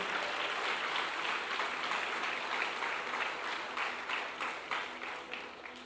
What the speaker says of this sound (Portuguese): Se você crê nisso, aplaude o Senhor.